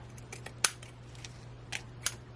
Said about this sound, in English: So I'm going to cut some of that.